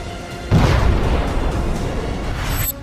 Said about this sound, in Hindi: दूसरा धमाका तेल अवीव शहर के बीचों बीच हुआ।